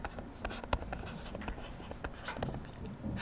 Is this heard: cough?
no